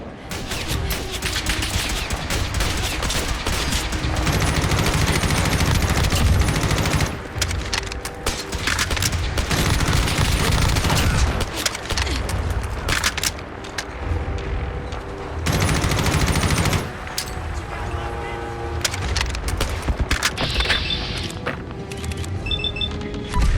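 Fallout 4 gunfire: sustained rapid bursts of automatic shots and heavy booms crackle loudly and almost without pause, with brief gaps between volleys and splintering wood among the blasts.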